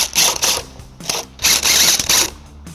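Ratchet fitted with a 14mm socket backing nuts off a 2022 Toyota Sienna, heard as several bursts of rapid clicking close by with short pauses between them.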